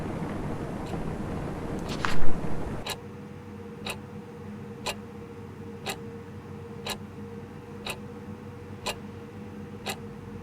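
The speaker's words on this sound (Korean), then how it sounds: "시계 소리가 너무 커진 것 같은데?" A loud clock ticks steadily about once per second, close and dry. A brief burst of other noise comes first, then the ticking continues on its own over a faint low hum.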